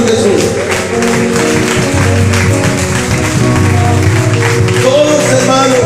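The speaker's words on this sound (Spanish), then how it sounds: "¿Cuánto le pueden dar un aplauso al Señor Jesús?" A church congregation claps in praise during a Spanish-language service, the applause mixing with sustained organ or keyboard chords and a crowd murmur underneath.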